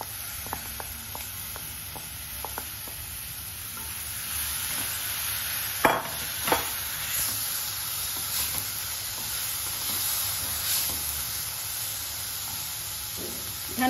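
Moth beans (matki) sautéing in a pan over low gas, a soft steady sizzle with occasional scraping stirs and clicks of a spoon, fairly close and without talk.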